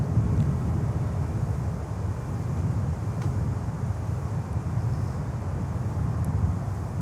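A cargo airplane landing at Miami airport in a crosswind gives a steady low rumble of jet noise mixed with wind buffeting the microphone, heard from a distance.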